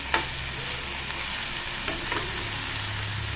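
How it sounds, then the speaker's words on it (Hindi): Chopped Malabar spinach being stirred in a frying pan: a continuous close sizzle with a couple of sharp scraping clicks of the utensil against the pan, no voices. "चलतु एबे आमे कटा साग पकेबा एवं या भल भाव मिक्स करदेबा"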